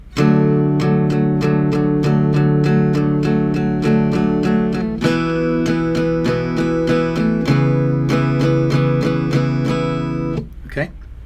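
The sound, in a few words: guitar strumming eighth-note pattern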